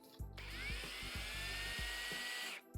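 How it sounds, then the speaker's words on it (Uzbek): A cordless drill spins in plain drill mode: a loud, steady motorised whine close by that speeds up, runs for about two seconds, then cuts off, with no talking. "birinchi funksiyasi faqatgina drel bo'lib aylanib beradi"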